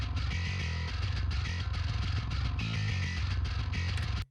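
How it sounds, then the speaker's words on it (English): A dense, full music mix with a generic bass guitar layer playing a steady low bass line throughout, continuous and loud, ending abruptly. "I added a bass layer, just a generic bass guitar"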